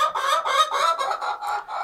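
A small flock of four or five hens and one rooster clucking loudly and close by, a busy overlapping chatter of short repeated calls with no talking.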